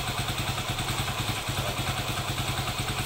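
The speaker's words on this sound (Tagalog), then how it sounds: "Parang may gumigiling na bato sa loob ng makina niya." Motorcycle engine with a fault that grinds as if a stone were inside, a loud close rhythmic clattering idle with a steady pulsing beat throughout and no voices.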